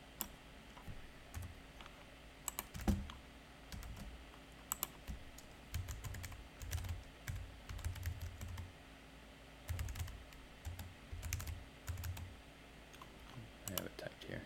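Close typing on a computer keyboard, with bursts of quick clicky keystrokes and pauses between them, fairly quiet against a faint background hum.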